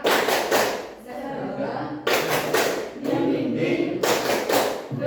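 A group performs the "tepuk semangat" spirit clap routine, sharp clusters of clapping bursting out roughly every two seconds in a steady rhythm, with voices chanting along between the claps.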